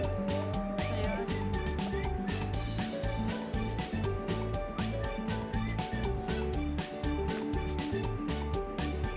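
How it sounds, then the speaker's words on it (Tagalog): A big fowl at the Warande animal park in Helmond, likely a turkey, gives a steady run of loud, close gobbling and honking calls that lasts the whole stretch with hardly a pause. "Look, big chicken."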